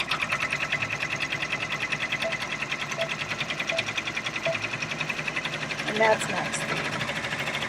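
Brother or BERNINA sewing machine running with a fast, even mechanical whir and rattle, steady and fairly quiet, as people talk nearby.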